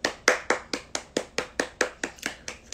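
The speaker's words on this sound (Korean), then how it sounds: "박수." One person claps alone during a livestream, about a dozen crisp, evenly spaced claps close to the microphone, with no talking over them.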